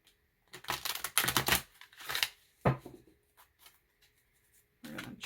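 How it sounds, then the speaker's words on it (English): Tarot cards being shuffled and riffled by hand, giving a few quick bursts of papery flutter and snapping with short quiet gaps between them. "we're going to give these a shuffle"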